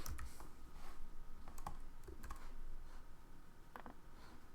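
Python code being typed on a computer keyboard, a quiet, steady run of close key clicks and taps with no voice over it.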